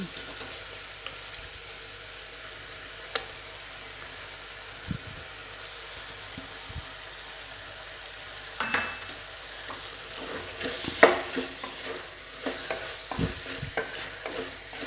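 Cleaned prawns fry in a hot pan with a steady sizzle, joined later by scraping stir strokes and clatters of a spoon against the pan.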